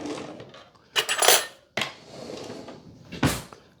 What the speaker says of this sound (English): Grab a spoon real quick.